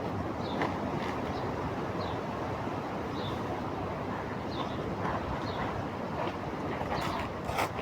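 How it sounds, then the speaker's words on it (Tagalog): Steady roaring wind buffets the microphone in a garden, with a few faint bird chirps poking through the constant rush. "Sobrang lakas po ng hangin dito mga idol."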